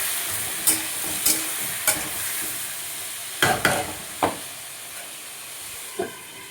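Pumpkin pieces with salt, turmeric and sugar fry in a pan under a constant sizzle, broken by about seven sharp spatula scrapes and knocks at irregular intervals, with no voices.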